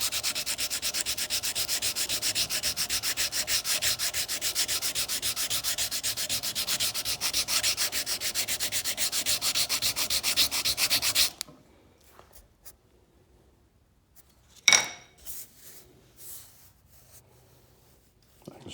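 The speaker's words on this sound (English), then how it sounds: "So I'm going to remedy that right now with my sanding stick." A sanding stick rubs rapidly back and forth over a wooden knife handle on a prototype knife, a dense, steady scratchy rasp lasting about eleven seconds, then stopping, followed by a few faint taps and handling noises.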